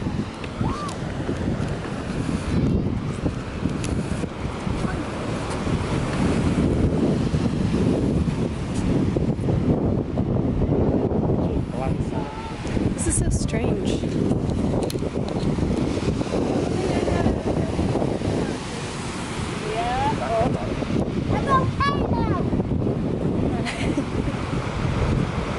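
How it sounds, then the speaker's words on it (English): Strong wind buffets the microphone while ocean waves wash and roll onto a black sand beach on Tenerife, a steady, rushing roar throughout with occasional brief voices. "Oh look, here's the black sand beach."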